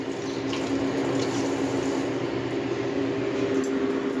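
A kitchen tap runs steadily as a fork is washed under it, a continuous close splashing rush with no pauses.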